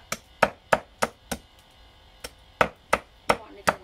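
Cleaver strikes chopping bones on a board for muối xương, ten sharp, loud, close thwacks in an uneven rhythm with a short gap midway, ringing briefly over a quiet background.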